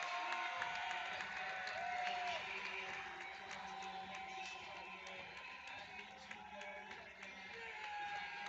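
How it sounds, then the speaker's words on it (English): A crowd roars and cheers at an indoor soccer championship final after the Cleveland Crunch score, a dense, continuous wall of cheering, whoops and applause that stays loud from start to finish. "you hear this crowd getting electric"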